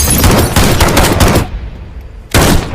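Gunfire in a movie scene: a loud, dense burst of rapid shots lasting about a second and a half, a short quieter gap, then another loud burst, with no talking.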